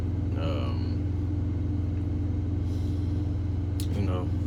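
A truck engine droning low and steady while driving, heard from inside the cab, with a few brief voice-like sounds over the rumble.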